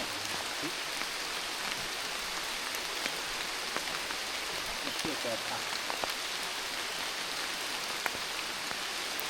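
Steady rain falls outdoors in the countryside, a dense even hiss with scattered drop patters throughout, while faint voices murmur now and then beneath it.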